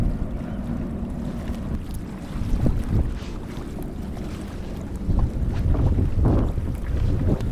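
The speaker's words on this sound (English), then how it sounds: "The winds have picked up and they're picking up quite nicely" Wind buffeting around an anchored sailboat at sea, a loud, gusting rush with low rumbling microphone noise and occasional knocks, no voices.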